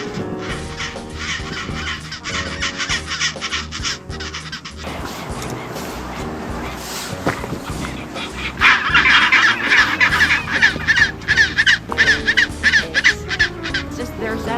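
Chinstrap penguins calling on Penguin Island, Antarctica, a dense colony chorus of harsh honking, crowing cries that swells louder and busier in the second half, steady and fairly close.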